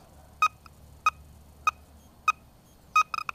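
A Minelab Musketeer Colt metal detector, swept through the air over a bottle cap, gives short, sharp electronic chirps, about five spaced pulses and then a quick cluster of three near the end, loud and close in quiet surroundings.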